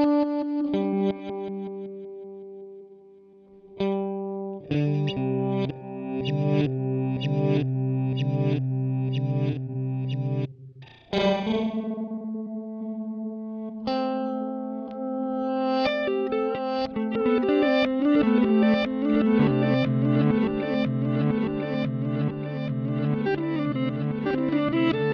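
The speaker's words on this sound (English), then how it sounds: "You've got a reverse delay." Electric guitar run through an EHX Canyon pedal set to reverse delay, played alone with no talk; sustained chords and picked notes swell in with smeared, backward-sounding repeats that build into a dense wash of overlapping tones.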